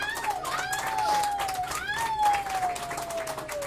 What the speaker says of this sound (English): how about one more round of applause for the comics you saw here tonight